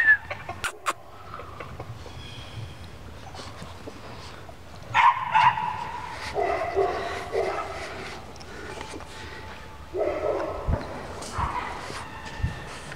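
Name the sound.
English Mastiff puppies barking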